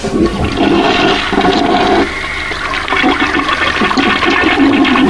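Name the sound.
toilet flushing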